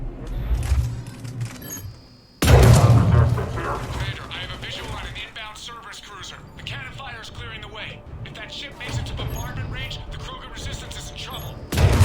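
Heavy cannon fire in the sci-fi shooter Mass Effect 3, loud booming blasts and mechanical clatter in a dense battle mix, with a sharp impact partway through and voices talking over the action.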